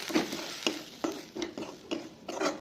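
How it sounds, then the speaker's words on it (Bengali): Semolina being fried and stirred in a pan for upma, with repeated scraping strokes of a spoon at a steady rhythm over a soft sizzle, close and fairly loud. "এবার সুজি দিয়ে ভালো করে ভেজে নেবো"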